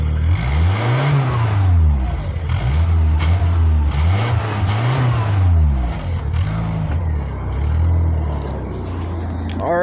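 A 1988 Ford Thunderbird Turbo Coupe engine on a cold start, recorded up close at the exhaust. It is revved repeatedly and loudly, with the pitch swelling and falling in several blips over a steady idle.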